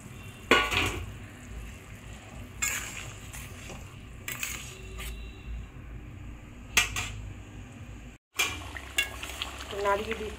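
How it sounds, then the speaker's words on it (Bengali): A utensil stirs thick egg curry gravy bubbling in a pan, with intermittent scrapes and metallic clinks against the pan over a low, steady sizzle. "নাড়িয়ে দিচ্ছি।"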